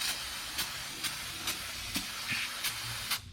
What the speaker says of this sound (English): right now we're just going to clean it up with the brake cleaner